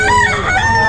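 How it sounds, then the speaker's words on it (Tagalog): A rooster at an outdoor pet market crows once, loud and close, in a short harmonic call with a gliding pitch. "Tingin tayo ng mga manok."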